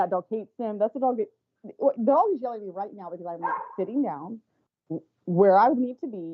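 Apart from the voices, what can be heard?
dog barking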